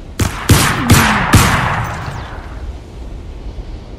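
Four rapid, loud gun blasts ring out in Crysis Remastered, each sharp report followed by a long rolling echo that fades away, with no voices over them.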